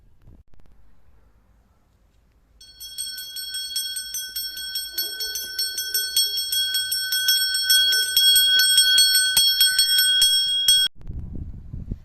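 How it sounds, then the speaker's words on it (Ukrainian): An electronic school bell melody rings out at the start of a new school year, a bright, steady chiming tune lasting several seconds over faint crowd ambience, then it cuts off abruptly. "пролунає чарівна мелодія шкільного дзвінка, яка сповіщує нам про початок нового шкільного року"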